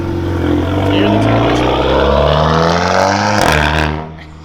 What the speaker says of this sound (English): You can hear her car. It's still so freaking loud.